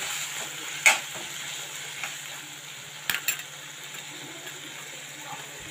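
Two tomatoes sizzling steadily in a pan for an onion chutney, with a few scrapes and clacks of stirring breaking through the quiet, even frying hiss.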